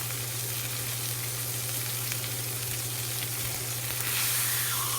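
Chicken sears in a hot pan, giving a loud, steady sizzle and crackle that holds throughout with no talking, rising slightly near the end.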